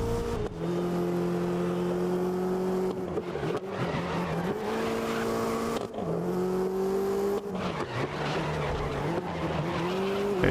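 A race car in GRID (2019) roars at high revs through a race with sustained tire squeal, the engine pitch dipping and climbing on each shift and corner, loud and close throughout.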